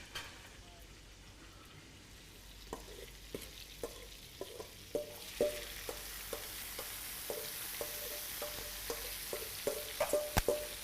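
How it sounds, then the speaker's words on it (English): Onions cook in melted butter in a pan, a soft sizzle running underneath while a utensil taps and stirs at a fairly regular pace, quiet and close-up. "I will add some butter, okay, to cook my mixture of onions."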